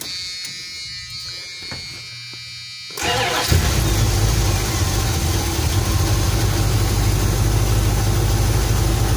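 An old carbureted Dodge van engine cranks and catches at about three seconds, then settles into a loud, steady idle that runs close by to the end. A voice talks briefly over the quieter lead-in.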